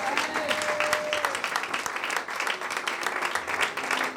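A church congregation applauds to acclaim the Lord during a French-language morning service, steady dense clapping filling the room throughout with a few voices mixed in.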